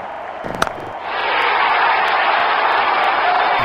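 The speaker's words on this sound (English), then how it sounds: "Crowd going mad here." Stadium crowd at an IPL cricket match erupting into a loud, sustained roar after a brief thump, continuing steadily to the end.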